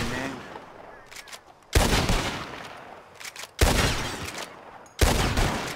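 Three loud revolver shots crack out at bottles in a Red Dead Redemption 2 shooting contest, evenly spaced about two seconds apart, each with a sharp attack and a lingering tail.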